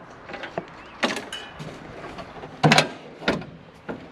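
A Jeep TJ hood is lowered and shut during a Genright fender install, giving a few sharp metallic clunks and rattles, the loudest near the middle, with quieter clicks around them and no talking.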